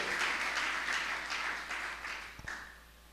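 A church congregation applauding and cheering at a Pentecost service, sustained moderately distant clapping that fades out toward the end, with faint voices mixed in.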